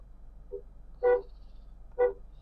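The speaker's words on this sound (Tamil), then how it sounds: "ஸோ ஒரு டீசெண்டான சவுண்ட் குவாலிட்டியில் இருக்குது இந்த மேக்னெட்டோட ஹாரன்" Two short toots of a Nissan Magnite car horn, evenly spaced about a second apart, loud and close over a low idling hum, with a faint blip just before.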